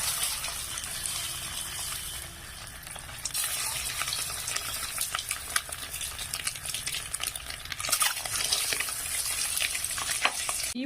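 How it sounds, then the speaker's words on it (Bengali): Eggs fried in oil with turmeric in a wok, a steady hiss of frying punctuated by sharp spatula clinks and scrapes that grow busier toward the end, heard close with no talking. "লবণ দেবো না, শুধু হলুদ গুঁড়ো দিয়েই ডিমগুলো ভালো করে আমি ভেজে নেবো।"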